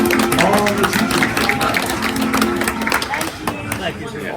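An audience applauds for Betty, a teacher retiring after 37 years, with dense, continuous clapping at close range and crowd chatter mixed in.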